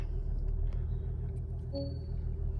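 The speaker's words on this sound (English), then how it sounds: "turn on the ignition, start the car" Porsche Macan engine running at a low steady idle, a continuous deep rumble held at an even level close by, with no voices over it.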